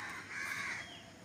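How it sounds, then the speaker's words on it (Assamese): A crow caws once in the early morning, a single drawn-out harsh call at moderate distance over quiet ambient background. "গোটেই গৰম এইবিলাক চৰাইবিলাক হাল্লা কৰি আছে।"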